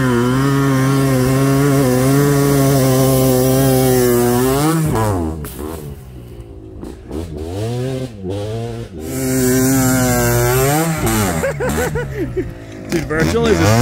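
A Yamaha TRI-Z 250 three-wheeler revs on sand dunes, its loud, close two-stroke engine droning and rising and falling in pitch, dipping briefly before surging again.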